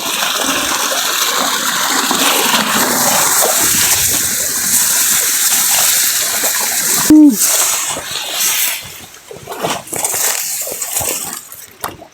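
Steady rush of water pouring into a farm irrigation channel, then a sharp knock followed by gurgling, uneven splashing flow.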